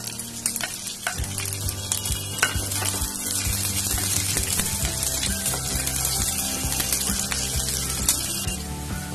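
Chopped onions and green chillies with ginger and garlic fry loudly in a pan, a steady dense sizzle with occasional stirring scrapes throughout.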